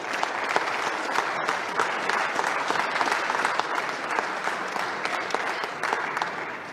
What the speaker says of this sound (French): J'aimerais ça avoir une grande main d'applaudissements pour ces gens-là.